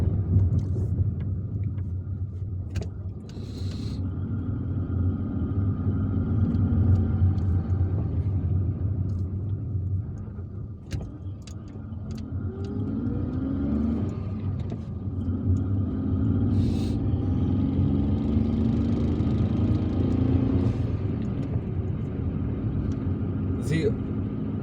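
A car drives along the main street of Kouba in Algiers, a steady low road rumble with engine drone and passing traffic running throughout, while someone talks over it.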